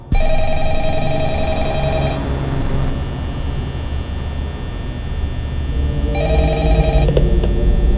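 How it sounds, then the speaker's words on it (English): A telephone rings loudly in a long electronic burst in the Five Nights at Freddy's game office, a hum fills the pause, and a second shorter ring follows. "you are once again abruptly interrupted by the phone ringing"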